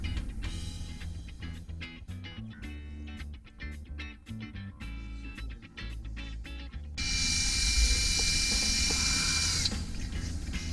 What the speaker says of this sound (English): So everybody drills at the end of their spider cracks.